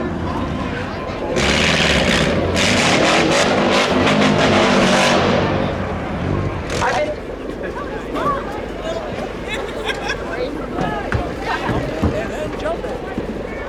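Subaru stunt car at Hudson Speedway's Pumpkinfest stunt show jumping up and down a ramp, a loud engine roar and crash of impact over the first seconds, then crowd hubbub and talk continuing underneath.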